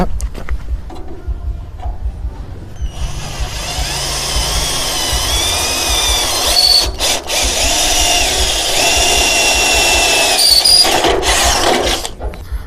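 Electric drill with a 5 mm bit boring through an aluminium ladder for a 4.8 mm rivet: a loud, close motor whine that spins up and grinds steadily for several seconds, with brief stops and bursts of bit chatter as it cuts the metal.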